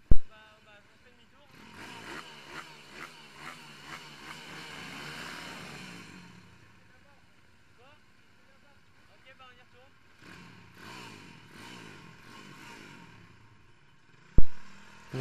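A cold YCF pit bike engine revs in sharp bursts under a bridge, the rising and falling whine echoing, then idles lower amid murmured voices.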